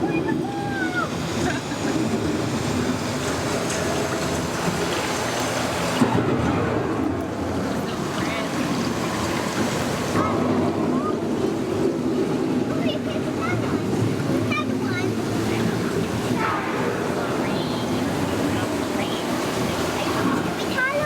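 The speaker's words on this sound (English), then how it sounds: "The approaching storm may seem violent and destructive to us." Stormy wind and surf-like water roar from the approaching storm scene on Epcot's Living with the Land boat ride, a steady loud wash lasting throughout with narration faintly underneath.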